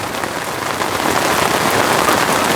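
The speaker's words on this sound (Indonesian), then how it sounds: "Lihatlah itu di luar tenda, hujan deras." Heavy rain pouring outside a tent, a dense, steady hiss of drops drumming close by with no voices.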